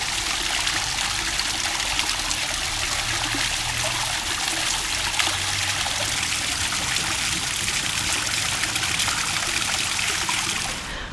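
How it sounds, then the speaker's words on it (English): Park water feature trickling and splashing steadily, a dense continuous wash of falling water heard close and alone throughout. "I do like a nice water feature."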